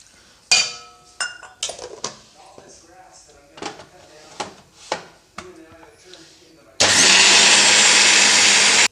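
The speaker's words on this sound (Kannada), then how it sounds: "ನೋಡಿ ಉದ್ದಿನಬೇಳೆ ಈ ಥರ ಪೂರ್ತಿ ಸಣ್ಣಗೆ ಗ್ರೈಂಡ್ ಮಾಡ್ಕೊಂಡಿದ್ದೀನಿ" Mixer grinder grinding soaked urad dal with a little water for idli batter, heard as a loud, steady whirring roar in the last two seconds, after a series of clinks and knocks of jar and utensils.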